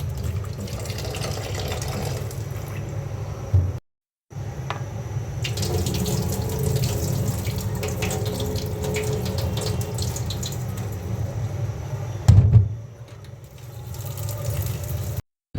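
Vegetables being washed by hand under a running kitchen tap, water splashing steadily into the sink for the whole stretch apart from two brief breaks, close and fairly loud.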